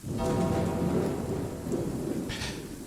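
A thunderstorm on a stormy night rolls through as loud, continuous rain with a deep thunder rumble swelling and fading throughout.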